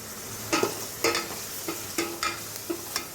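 Bursts of stirring and scraping in a pan over a low, steady sizzle of onions frying in coconut oil, about six strokes spaced roughly half a second apart.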